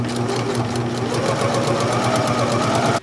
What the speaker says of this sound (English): But you're going to have a heavy duty sewing machine because of the thicknesses.